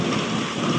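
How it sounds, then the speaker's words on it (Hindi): Heavy monsoon rain pours steadily with a dense hiss, and deep thunder rumbles underneath throughout, loud and close with no voices. "इतनी ज़्यादा बारिश"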